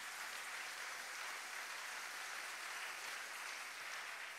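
A church congregation applauds the word of God after a scripture reading, a steady, dense wash of clapping that fills the room evenly from start to finish with no talking over it.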